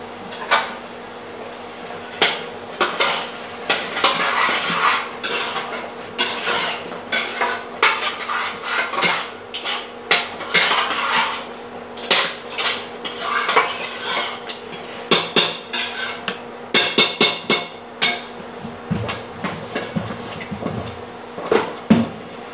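Pumpkin halwa being stirred with ghee in an iron pan over low heat, with repeated metallic scrapes and clinks of a spoon against the pan in an irregular rhythm, close and moderately loud.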